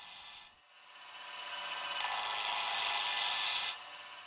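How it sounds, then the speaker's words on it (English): Woodturning lathe spinning a wood blank while an easy rougher tool rounds it, a soft rasping scrape that drops out briefly, returns, then swells into a brighter, louder hiss before cutting off. "I'm going to round out our piece using the easy rougher"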